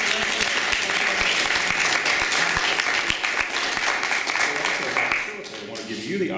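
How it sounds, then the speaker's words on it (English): Loud, close audience applause at a storytelling gathering, dense clapping sustained for several seconds before easing slightly near the end as a voice begins to speak. "How about a round of applause"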